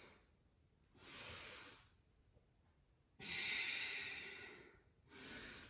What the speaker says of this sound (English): Deeper, dry breaths.